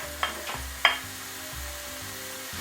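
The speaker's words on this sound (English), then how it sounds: "we're going to keep on stirring this until we brown all the meat" Shredded sausage meat browning in a pan, a steady low sizzle broken by a couple of sharp clicks or taps of the stirring utensil and a faint background hum.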